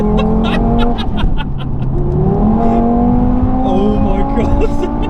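Mk3 Audi TT RS with an MRC Stage 2 tune accelerating hard from inside the cabin, a loud sustained engine note rising and shifting through gears, with excited voices over it.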